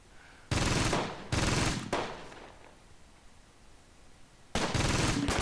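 An ambush opens up in the World War II tactics game Close Combat near Caen: two short, dense bursts of machine-gun fire, a fading echo and a quiet gap, then another burst, all fairly distant.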